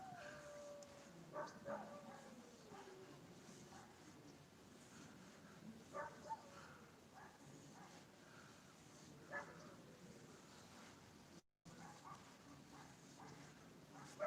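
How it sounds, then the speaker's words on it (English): A dog howls faintly in the distance, several drawn-out rising and falling wails spread across the stretch over a quiet, hissy background, with a short dropout near the end. "I hear a dog howling."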